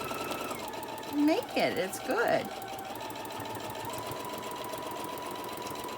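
A sewing machine stitches a small fabric tote bag in a short whirring burst of rapid needle strokes over a low motor hum, while a person speaks briefly nearby.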